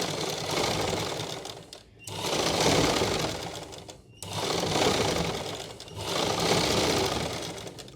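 A sewing machine runs in three long continuous bursts of stitching through fabric, loud and close, separated by brief pauses, with no talking over it.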